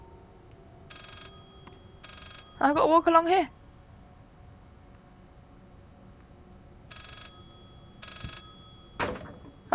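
A telephone rings in the horror game Layers of Fear, in short electronic bursts repeating at intervals, fairly faint and echoing, with someone speaking briefly and a loud vocal outburst between the rings.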